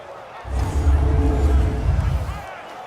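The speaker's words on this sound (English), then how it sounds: "the crowd getting into it as we come up on a big third down" A stadium crowd in the Madden NFL video game swells into a roar of cheering around a big third down, rising for about two seconds before dropping back.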